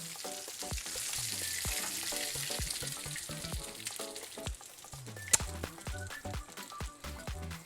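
Tortillas fry in oil that is too hot, and the crackling sizzle and popping bubbles stay loud and steady from start to finish, with one sharp pop near the end.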